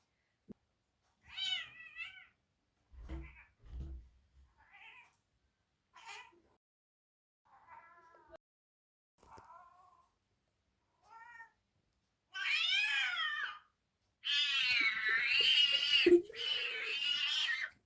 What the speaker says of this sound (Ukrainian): Коли я вімкнула звуки котячої битви, це ще більше стривожило його.